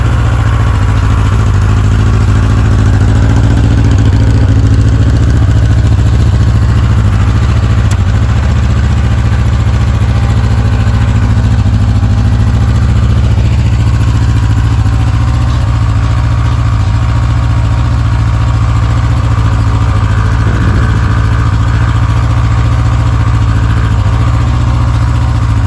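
A 1983 Honda CB1000 motorcycle engine runs at a steady, loud, low idle with a constant mechanical clatter throughout, close up and with no voices.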